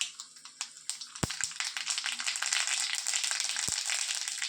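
Mustard seeds popping and crackling in hot coconut oil, a dense continuous sizzle with sharp irregular pops, close and steady throughout with no talk.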